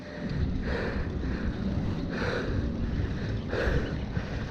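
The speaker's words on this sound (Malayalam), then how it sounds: "ഇത് അറബികളൊക്കെ ഇടയ്ക്ക് ട്രിപ്പിന് വേണ്ടി പോകുന്ന ഇതാട്ടോ ബോട്ട്" A boat moves on the water off Dubai with a continuous rushing, sloshing wash, mixed with heavy wind buffeting on the microphone and a low rumble. Faint swells rise and fall every second or so.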